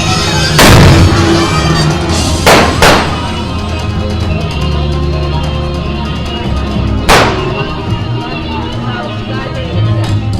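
Loud, sharp gunshots at a Bonnie & Clyde shootout reenactment during a festival in Gibsland, Louisiana: a few blasts ring out, two in quick succession, over outdoor crowd murmur and voices.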